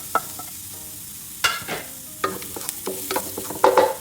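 Ginger and garlic sautéing in hot oil and butter, a steady sizzle under scattered stirring scrapes and clinks, with a louder burst of frying near the end.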